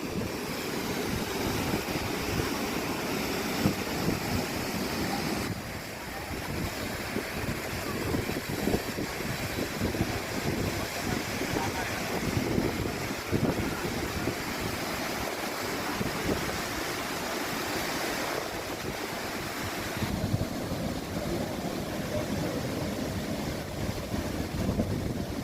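Water pours and rushes continuously into a dry dock at a shipyard, a steady broad wash under gusts of wind buffeting the microphone, with faint speech now and then.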